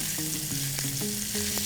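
Fish lightly pan fried, giving a loud close sizzle and crackle of hot oil that runs without a break, with a few soft knocks of utensils against the pan.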